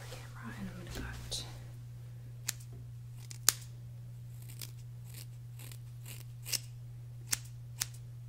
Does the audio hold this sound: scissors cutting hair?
yes